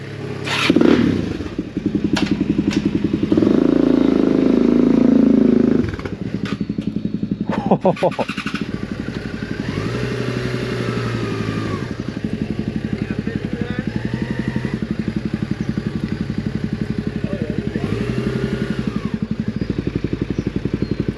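A Yamaha and a Kawasaki DRZ 400 motorcycle on a Salt Lake City ride, close and loud: an engine rumbles and revs early, then settles into a long steady idle with clattery mechanical noise.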